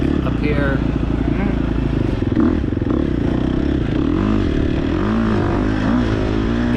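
Motocross dirt bike engine droning steadily under racing conditions on a track with sand whoops and turns, loud and close with rising and falling revs throughout.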